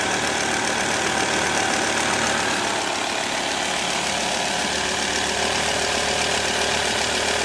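Diesel engine with an injection pump, treated with Ceramizer, idling steadily and fairly evenly up close, a loud continuous rumble with a faint knocking texture throughout.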